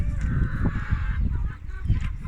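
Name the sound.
chickens in a coop in the morning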